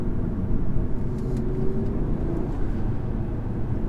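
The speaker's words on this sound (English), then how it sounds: "as soon as you get above 4000, that's when you hear the engine really start to come alive" A 2019 Audi RS3 with a particulate filter accelerates hard, its engine droning loud and steady from inside the car as the revs climb.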